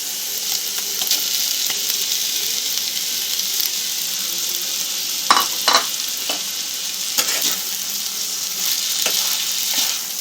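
Rice and chana dal being stirred in hot oil in a pan for khichuri, a steady soft sizzle with scraping spoon strokes, a few louder scrapes around the middle, close by and without voices.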